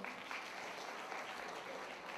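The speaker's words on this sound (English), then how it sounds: "that's a clap for the question" Brief, faint applause from an audience at a corporate keynote talk, a soft, even patter of clapping heard alone for a couple of seconds.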